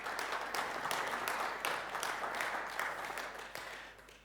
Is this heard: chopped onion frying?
no